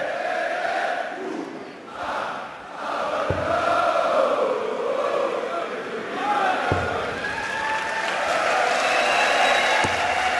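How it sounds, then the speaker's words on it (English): A German darts crowd at the 2016 German Darts Masters roars and applauds itself after singing, a dense, steady wash of cheering and clapping with chanting voices that fills the arena throughout. "Giving themselves a round of applause"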